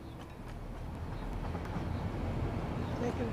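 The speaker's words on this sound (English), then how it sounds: "Taking a train ride, are you?" A train in the factory-building game Satisfactory runs along the track with a steady, low rumble that builds slightly over time and stays in the background.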